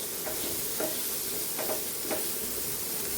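Chopped tomato being stirred into sautéed spices for tinda sabzi, a soft steady sizzle with several scraping strokes of a spoon against the pan.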